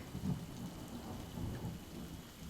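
Steady rain pours down with low rolling thunder rumbling through it, a continuous storm ambience with no voices.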